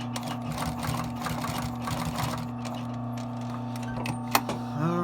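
A sewing machine stitches steadily during a restoration, a close, continuous mechanical whir with a fast ticking rhythm that runs the whole time and slows briefly toward the end, with no talking.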